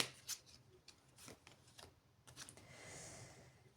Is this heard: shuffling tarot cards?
yes